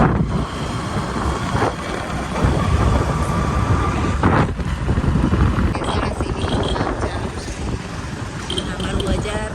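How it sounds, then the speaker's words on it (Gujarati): Motorcycle ride through town traffic with strong wind buffeting the microphone, a continuous loud rushing roar that masks the engine, with a voice talking over it. "ચાલો તો આપણે પણ 2 જઈએ બાઇક ઉપર"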